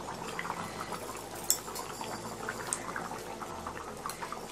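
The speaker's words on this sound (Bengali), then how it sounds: "চিনি দেওয়ার পরে এটা আমি টকবক করে ফুটিয়ে নিলাম" Potato curry gravy for aloo dum bubbles and simmers in a pan, a steady soft seething with scattered small pops, close and quiet, no talking.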